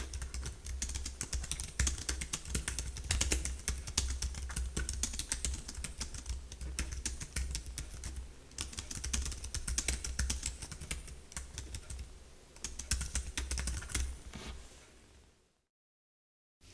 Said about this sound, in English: What's it like typing on this SODI portable keyboard?